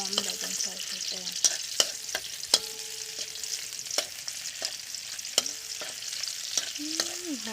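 A spatula scrapes and stirs food sizzling in a hot pan ahead of adding cucumber, giving a steady close frying hiss broken by sharp clacks and scrapes of the utensil against the pan.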